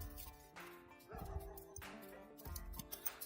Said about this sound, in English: There's Neighbour's dog.